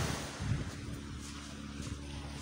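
Sea waves washing onto the shore of Boracay beach, a steady broadband rush with soft swells and wind noise, heard close and continuous with no speech.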